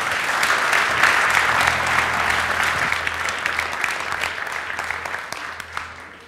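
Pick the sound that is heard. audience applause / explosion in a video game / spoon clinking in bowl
audience applause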